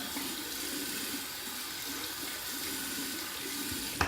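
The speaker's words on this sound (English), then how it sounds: "I'm going to rinse it out just to show you my cleaning routine with my synthetic brushes" A synthetic shaving brush is rinsed under a running tap, giving a constant close hiss of flowing water with soft splashing as it is moved back and forth.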